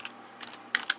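A few quick keystrokes on a computer keyboard, faint and close, with soft clicks early on and a pair of sharper taps near the end over a quiet room hum.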